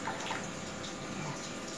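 Hot water poured steadily into a bottle to sterilise it, a continuous close splashing and gurgling stream with no speech.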